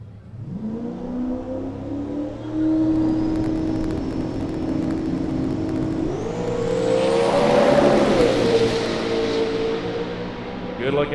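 A red Fox body Mustang Cobra makes a drag racing pass, its engine droning steadily and then climbing in pitch through the gears, loud and close, as it accelerates down the strip.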